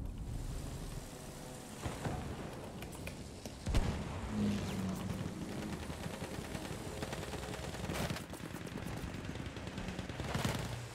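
Bursts of rapid machine-gun fire and scattered shots in the video game Battlefield 1, rattling over a dense battlefield din with a few heavier booms, steady throughout.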